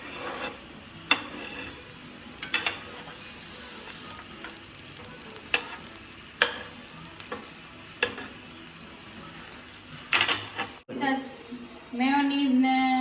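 Wheat flour tikki patties frying in a pan, heard as a steady close sizzle with occasional sharp taps of a utensil, and a voice talking near the end.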